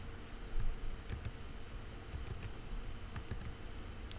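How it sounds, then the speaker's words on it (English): Computer keyboard keys pressed for an undo shortcut during a CAD sketching lecture, a few sparse light clicks over a steady low hum and room noise. "I can hit Control Z"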